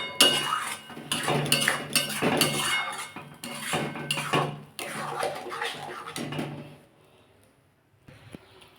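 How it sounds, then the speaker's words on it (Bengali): A spoon or spatula scrapes and clatters against a metal kadai while mashed beans are stirred and fried, bursts of rhythmic metallic knocking and scraping up close, then a fade to near quiet with a faint clink at the end. "এটা একটু ভালো করে ভাজতে হবে মানে সমানে নাচতে হবে নাহলে কড়াইয়ের তলায় ধরে যাবে"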